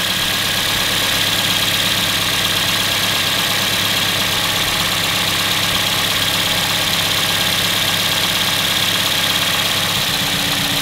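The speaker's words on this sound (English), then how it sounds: "same thing, engine's running rough" A car engine with an ignition coil disconnected from one cylinder idles close by with a steady droning rumble and an uneven, shaky undertone, continuous throughout with no voices.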